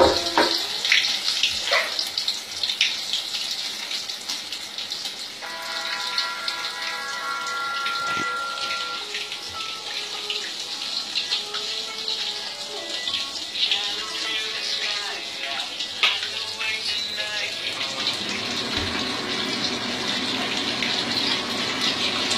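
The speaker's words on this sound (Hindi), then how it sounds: "जब तक ये लाल ना हो जाए इसको डीप फ्राई अच्छे से कर लें।" Cheese kebabs deep fry in hot oil, giving a steady, bright, crackling sizzle that runs unbroken throughout, with a few faint clinks over it.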